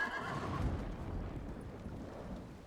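A video-game horse lets out a short whinny at the start, followed by a run of hoofbeats and rumbling in-game ambience.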